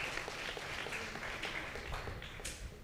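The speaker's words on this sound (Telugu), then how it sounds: "చప్పట్లు కొట్టాలి." A church congregation claps together in steady, continuous applause that stays fairly faint and even throughout, with no clear voices on top.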